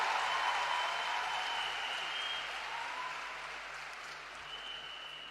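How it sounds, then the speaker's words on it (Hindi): An audience at a Delhi event applauds steadily in a dense, continuous wash of clapping that slowly fades over several seconds, with a faint hum underneath and no talking. "तो एक बार जोरदार तालियां देश के प्रधानमंत्री नरेंद्र मोदी जी के लिए।"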